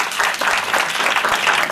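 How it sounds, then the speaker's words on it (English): Classroom audience clapping for a female student presenter, a brief burst of dense, steady applause at close range. "So a round of very big applause,"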